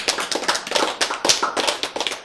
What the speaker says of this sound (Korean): 박수 쳐야 받는다니까.